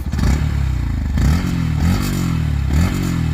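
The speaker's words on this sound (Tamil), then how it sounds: "அதுதான் இந்த எக்ஸாஸ்ட் சவுண்டு." A Yamaha FZS motorcycle with a single-pipe exhaust is revved up close by. Several quick throttle blips rise and fall over a rumbling idle, with a slightly raspy exhaust note.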